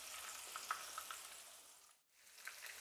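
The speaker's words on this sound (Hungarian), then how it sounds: "körülbelül így oldalanként sütöm forró zsíradékba 1-1 percig" Catfish fillets fry in hot fat with a close, steady crackling sizzle and scattered pops, which briefly drops away near the end before returning.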